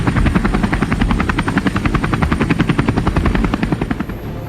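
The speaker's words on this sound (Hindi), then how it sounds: "कई हेलीकॉप्टर्स ने उड़ान भरी और युद्ध के दौरान दुश्मन सेना के विमानों को घेरने की रणनीति बनाई।" Military helicopters such as the Chinook fly during an army exercise near the Line of Actual Control, their rotors throbbing in a fast, steady rhythm with a loud, dense roar throughout.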